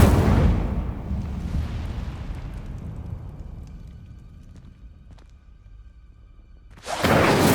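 A fiery spell blast in the fantasy video game Hogwarts Legacy bursts loudly at the start, trails off into a long rumbling decay, then a second fiery whoosh flares up near the end, with no talking.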